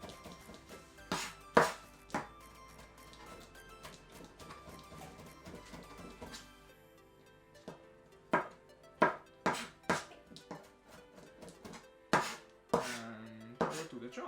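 A knife chops onion slices on a cutting board in quick clusters of sharp taps, with pauses between bursts, close and clear.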